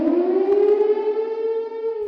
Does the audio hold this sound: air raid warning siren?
yes